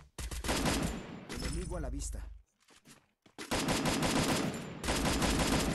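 Rapid bursts of automatic gunfire in a Spanish-language online shooter game, loud and near, in two long dense volleys separated by a short pause, with someone speaking briefly between them.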